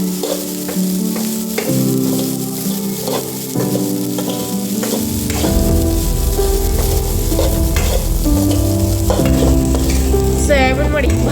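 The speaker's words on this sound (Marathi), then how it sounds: "सोयाबीन वडी जास्त भाजायची नाही, सोनेरी रंग येऊपर्यंत भाजायची आणि मंद आचेवर भाजून घ्यायची" Soya chunks dry-roasting in a pan over a low flame until golden, giving a steady soft sizzle and stirring scrapes that run throughout under continuous background music.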